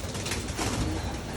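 A racing pigeon coos softly and continuously amid a dense wash of bird sounds, with other pigeons fluttering and calling nearby at a training loft before a local race.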